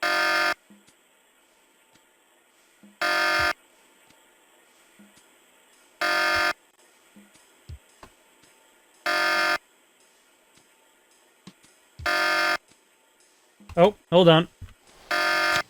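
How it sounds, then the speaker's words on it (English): A harsh buzzing alarm in The Pandora Directive video game blares in short bursts repeating about every three seconds, with quiet gaps between and a voice speaking briefly near the end. "Sounds like I got that alarm turned off."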